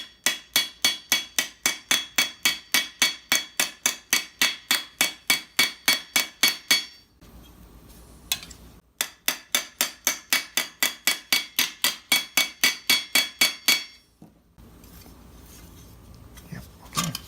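Rapid, regular metallic strikes on a metal armor plate in two long bursts, loud and close, separated by a short pause with quieter clatter.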